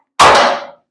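A hammer strikes metal on a motorcycle frame with a single sharp metallic clang that rings out loudly, then quickly decays into a brief fading ring.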